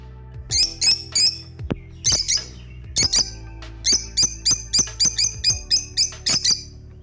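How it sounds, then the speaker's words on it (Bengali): Small birds chirp in quick bursts of bright, high calls, first in scattered groups and then a rapid run of repeated tweets, close by with no talk. "কাছে যাওয়া মাত্রই কত কিচির মিচির করে উঠছে"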